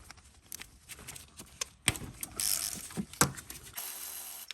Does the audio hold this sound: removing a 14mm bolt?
yes